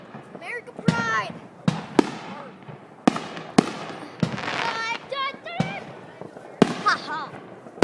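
Fireworks going off on an American Independence celebration, a series of sharp booms and crackles roughly every second, with whistling and sputtering effects, mixed with nearby conversation.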